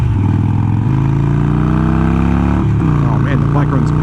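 A Harley-Davidson Iron 883 Sportster engine rumbles loud and steady while riding in chilly weather, its pitch rising and dipping slightly, with a voice briefly talking over it near the end.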